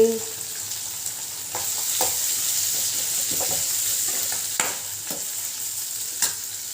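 Onion, tomato, crushed garlic, fennel and curry leaves sautéing in a pan for a kuzhambu, a steady soft frying hiss throughout with occasional light spatula taps and scrapes, heard alone without speech.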